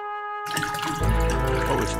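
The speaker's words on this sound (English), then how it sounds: "I'm gonna pour some more water." Water pours into a glass, a close splashing flow that begins after a short quiet moment and deepens as it fills, with a tonal background sound beneath it.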